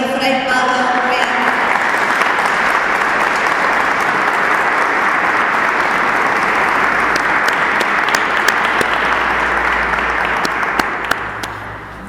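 Loud, sustained audience applause welcoming Fray Pablo Reartes to a lecture, a dense continuous clatter of many hands that holds steady throughout, with a few sharper claps standing out near the end.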